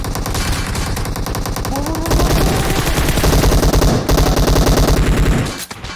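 Continuous automatic gunfire in the mobile battle-royale game PUBG Mobile, with dense, rapid bursts running nearly unbroken for about six seconds. It is loud and close, and the shooting cuts off near the end.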